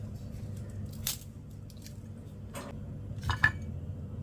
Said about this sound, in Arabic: اسمعوا بقى القرمشة بتاعتنا عالية جدا